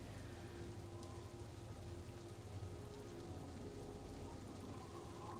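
Rain falls in a steady, even hiss and patter with a low rumble beneath, continuous without breaks, very quiet and distant-sounding, with no talking.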